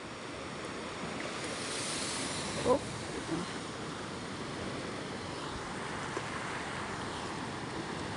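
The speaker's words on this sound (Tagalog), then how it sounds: "Ganyan lang po naman na alon." Gentle small sea waves wash steadily over a broad noisy hiss, with wind buffeting the microphone and a brief voice exclaiming once.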